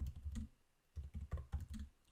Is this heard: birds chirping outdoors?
no